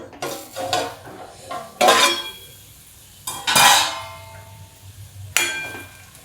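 A pan lid comes off a pot of ivy gourd cooking over low heat, with several sharp metallic clanks and rattles spaced out at irregular intervals, close and fairly loud against a quiet background.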